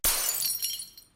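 A glass bottle shatters with a sharp crash followed by a bright spray of tinkling shards that fades over about a second, loud and close with no talking.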